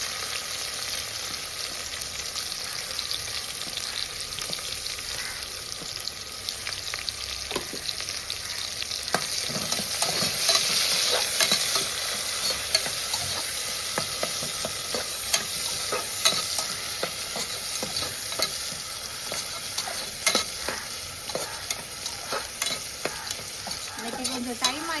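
Two large onions fry in a pan for a South Indian mutton kuzhambu lunch, a steady close sizzle with occasional stirring scrapes and clicks running throughout, no voices.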